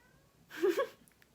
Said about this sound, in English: if you can ever randomly hear my cat meowing in the background